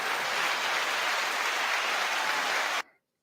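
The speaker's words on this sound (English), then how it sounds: "Give yourself a round of applause." Dense, sustained applause from a crowd at a talk-show event, broad and even for almost three seconds before it cuts off abruptly into silence.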